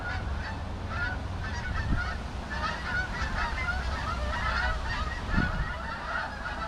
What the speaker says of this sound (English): We have geese flying by.